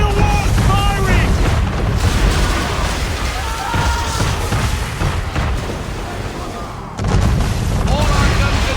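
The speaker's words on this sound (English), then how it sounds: "Under attack! Men of war firing!" Warship cannons boom repeatedly in Assassin's Creed 3 during a naval battle, loud broadband blasts rolling into one another with shouting voices and game music underneath.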